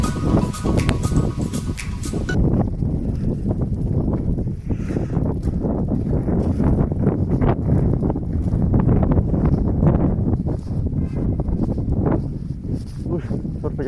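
Strong wind buffets the microphone outdoors in a continuous loud roar with rumbling gusts, and a person's voice is heard at times beneath it.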